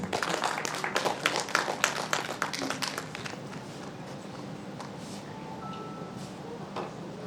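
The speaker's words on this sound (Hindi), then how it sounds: "एक बार जोरदार तालियां" Audience applause at the close of an award ceremony for young achievers, a burst of clapping in the first three seconds that thins to scattered claps and fades into room noise.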